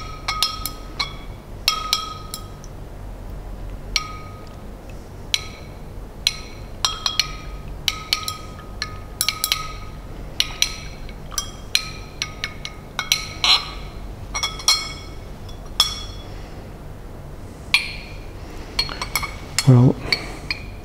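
A glass rod stirs potassium hydrogen phthalate solution in a glass beaker, giving repeated sharp, close clinks and taps at an irregular pace over soft background noise, with a brief low voice near the end.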